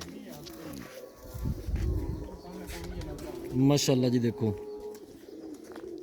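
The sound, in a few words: pigeons cooing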